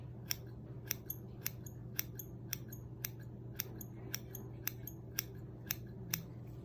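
Scissors snip hair during a bang trim with a steady series of crisp, close metallic clicks, roughly two per second, over a low constant background hum.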